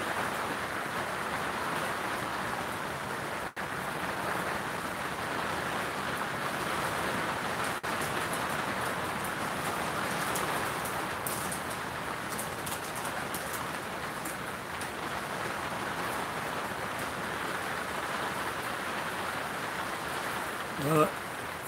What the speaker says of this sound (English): Maybe this is as hard as the rain will get.